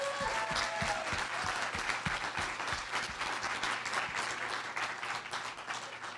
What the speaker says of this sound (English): Can we have another round of applause for Sherwin?